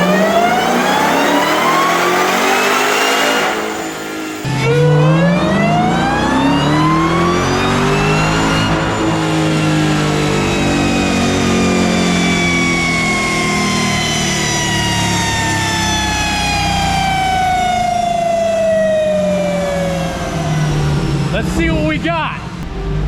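A Dodge SRT Demon 170 roars on a dyno, its engine note climbing in long rising sweeps through the gears at full throttle, loud and close, ending with a brief lift off near the end.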